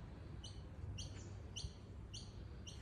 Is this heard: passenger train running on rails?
no